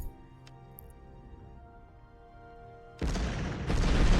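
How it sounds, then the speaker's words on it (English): Artillery bombarding a ship in the strategy game Empires of Steel: a sudden loud, broad blast bursts in after a few seconds of quiet hum and keeps rumbling, swelling again near the end. "He's bombarding that ship there"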